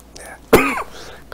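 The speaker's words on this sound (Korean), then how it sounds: "갑자기 침이 넘어가니까 기침이 나오네요" A man in the middle of a Korean sermon gives one sharp cough after saliva goes down the wrong way, close and loud, with brief speech sounds around it.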